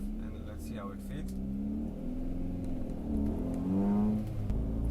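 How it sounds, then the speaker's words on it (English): A Maruti Zen fitted with an aftermarket exhaust revs and accelerates on a drive, its engine note climbing and falling in a throaty drone heard from inside, with someone talking over it. "might have definitely heard that roar into life, complemented by an aftermarket exhaust system fitted on this car"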